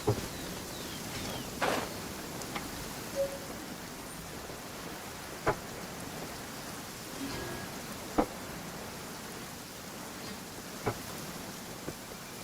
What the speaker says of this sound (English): Good thing it's raining, so I can use more reactions.